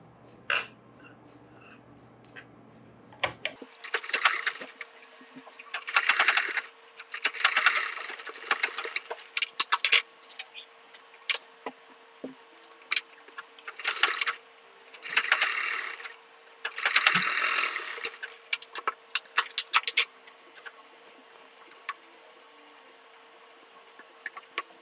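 A sewing machine stitching a boy's Pathani kurta, with repeated close bursts of rapid mechanical chatter lasting a few seconds each and separated by short quiet pauses.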